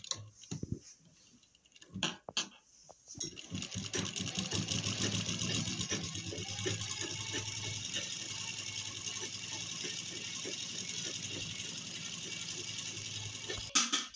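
A sewing machine runs a long line of stitching along a narrow fabric strip for a cord, a steady close whirring hum with rapid ticking that lasts about ten seconds, preceded by a few handling knocks, no talking.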